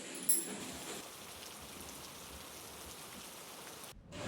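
Steady rainfall pattering on surfaces, a dense even hiss throughout with one brief louder tap early on, no voices.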